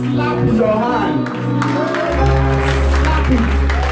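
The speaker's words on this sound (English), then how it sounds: "Okay, slap your hands." A church congregation claps along during an afternoon worship service, with steady broadband clapping under loud music, sustained tones and a strong bass that swells midway, plus voices mixed in.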